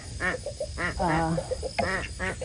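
Two farm ducks quack in a rapid, raspy series of nasal calls, close and fairly loud, with short pauses between bursts.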